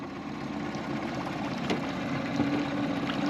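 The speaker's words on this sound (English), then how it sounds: "I got my motor idling." A new boat motor idles on a river during break-in, giving a low, even, steady hum throughout with no voices.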